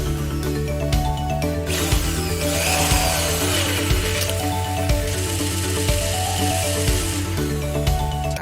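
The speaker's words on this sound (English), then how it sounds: "I'm going to try and drill the holes on the wrong side of the drum" A loud power drill whines steadily as it drills holes in a drum shell, its pitch shifting as it bites, with rhythmic knocks underneath; no one speaks.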